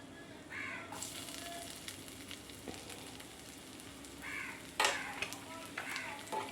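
A spoonful of ginger sautés in a pan with golden-brown onions, giving a quiet, steady sizzle with occasional stirring scrapes and a crow cawing twice in the background.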